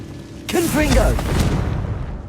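A Confringo spell explodes in Hogwarts Legacy, a deep rumbling boom that swells and lingers while a voice speaks briefly over its start.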